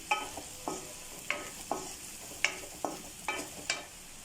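Turmeric being stirred into lightly browned onions in a pan, a spoon scraping in repeated strokes, roughly eight of them in a steady rhythm, over a faint sizzle, close and moderately loud with no talking.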